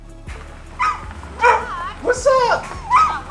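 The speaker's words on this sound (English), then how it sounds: "There's my dog." A dog barks and yips several times in a garage workshop during a Toyota Supra hood vent install, while people talk nearby.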